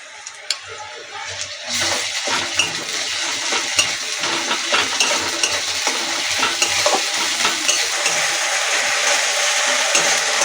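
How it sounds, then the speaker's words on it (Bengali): Onion fried to a reddish brown, stirred in a pan with ginger, garlic and chilli paste: a steady, fairly loud sizzle with scraping spatula strokes and small ticks, near and continuous after a brief quiet start. "আমি আদা রসুন আর লঙ্কা বাটাটা দিয়ে দেব। দিয়ে আরও 1 মিনিট ভালো করে নেড়ে নেব।"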